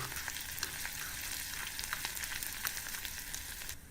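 Cumin seeds, green chili pieces and grated ginger fry in hot oil with a close, even crackling sizzle, scattered with small pops and light stirring, and no voices.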